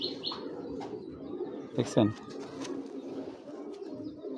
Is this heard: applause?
no